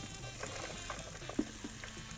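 Onions fry in a pan with a little oil, a faint continuous sizzle with small scattered crackles and a soft knock or two from stirring, no talking.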